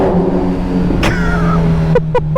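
A motorcycle engine revving inside a tunnel, a loud rumbling drone with echoing resonance, plus a sharp burst and a few quick repeated pops near the end, close and alone without talk.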